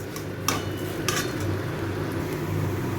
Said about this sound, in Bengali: দিয়ে চালটাকে আমি একটু ভালো করে ভেজে নেব। আমি গ্যাসের ফ্লেমটাকে লোতে রেখে আমি চালটাকে বেশ 3-4 মিনিট ধরে